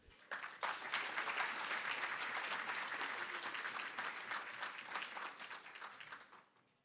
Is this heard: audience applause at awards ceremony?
yes